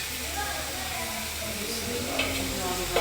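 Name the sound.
stirring food in a pan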